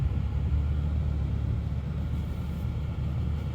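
A car on stop-and-go cruise control pulls away on its own in traffic, heard from inside as a steady low road rumble and engine hum with no voices.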